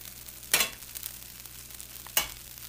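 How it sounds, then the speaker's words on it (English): Bread lands in a hot, smoking pan, giving two sharp bursts of sizzle about a second and a half apart over a low, steady hiss. No one speaks. "we get ready to flip the bread onto the pan, and it cooks"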